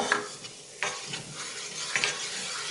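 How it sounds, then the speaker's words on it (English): All-purpose flour (maida) stirred in a hot pan: a soft sizzle under repeated scraping strokes of a spoon, close and fairly loud, with sharper scrapes at intervals. "Now I am going to put the all-purpose flour, maida, just stir for a half a minute"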